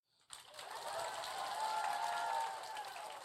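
Audience at a Harry Potter fan convention in Boston breaks into sustained applause with scattered cheers, rising quickly and holding steady for a few seconds before easing off.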